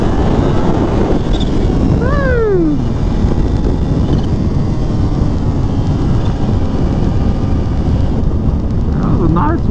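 A 2021 Kawasaki Ninja H2 rides in first gear under light throttle with the front wheel lifting: a dense, continuous roar of engine and wind buffeting, with a brief rising pitch sweep as it pulls.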